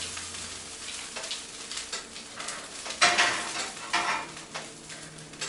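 Pork and beef smashburgers, crispy on both sides, sizzle and hiss on a hot cooking surface as they are stacked, with scraping and clinking of utensils and a louder flare of sizzle midway.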